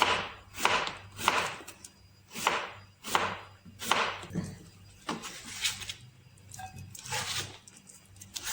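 Cucumber sliced for a fresh tomato and cucumber salad, a steady series of about a dozen crisp, close knife chops on a board, evenly spaced, then slightly quicker near the end.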